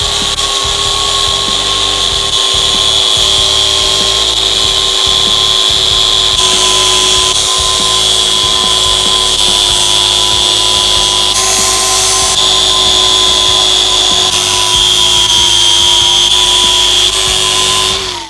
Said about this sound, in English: we'll finish that up with the air grinder there